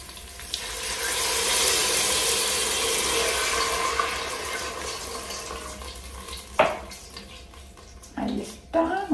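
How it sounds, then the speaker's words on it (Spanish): A splash of water is poured into a pot where tomato paste has been frying for a homemade Turkish meatball soup, making a steady broad running hiss for several seconds, followed by a few short clatters and sizzles. "Le agregamos un poquito de agua."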